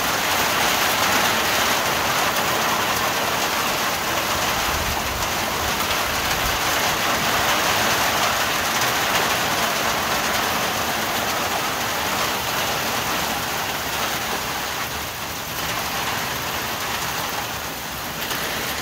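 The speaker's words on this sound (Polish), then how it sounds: "Pierwsza ulewa minęła" Steady, heavy rain pours down continuously in a village downpour, a dense hiss of water drumming on surfaces with no voices and no letup.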